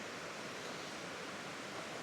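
The Methow River rushing at the base of a long climb, a dense, even broadband roar of flowing water that fills the whole moment with no voices.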